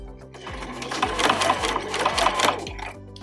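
A sewing machine stitches fabric onto batting for a fabric heart ornament, running in a quick, even mechanical rhythm close up and alone.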